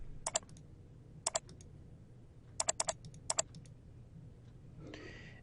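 Typing on a computer keyboard, a few quiet, crisp key clicks in short clusters with pauses between, faint and close in a quiet room.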